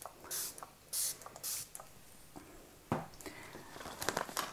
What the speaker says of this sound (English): I'm going to spray it actually with my MAC Fix Plus.